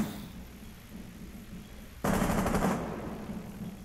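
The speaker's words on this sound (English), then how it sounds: "Oh god, they're shooting at me." Rapid automatic gunfire in Rainbow Six Siege erupts loudly about halfway through as a dense, sustained burst, then trails off over a low game background hum.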